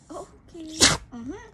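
A dog's short, sharp sneeze bursts out between soft whimpery vocal sounds, with a person briefly speaking nearby.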